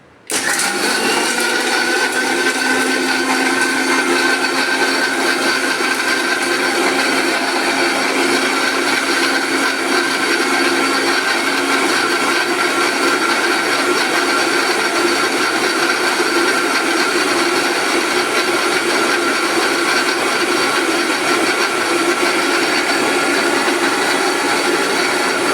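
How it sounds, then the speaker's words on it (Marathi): A kitchen mixer blender runs with its lid on, blending coconut and milk into a milkshake: a loud, steady, high-pitched motor whir that starts abruptly and continues unbroken for the whole stretch, with no voices. "आता मिक्सर चालू करा."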